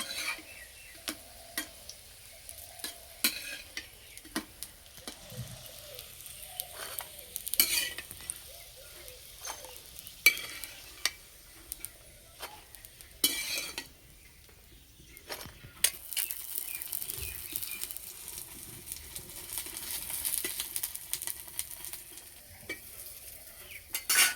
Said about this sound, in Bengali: একটু সময় ধরে আস্তে আস্তে ভাজলে খুব সুন্দর ভাজা হবে